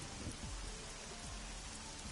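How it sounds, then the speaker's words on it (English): Steady rain pours in the video game Ai: The Somnium Files, a constant dense hiss that stays even and unbroken throughout, with no voices over it. "This rain is awful, huh?"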